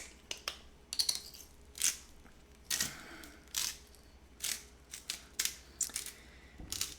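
A hand salt grinder cranks coarse grinder salt over freshly made homemade tortilla chips, giving a run of crisp, gritty crunching bursts in an irregular rhythm, close and fairly quiet, with no one speaking.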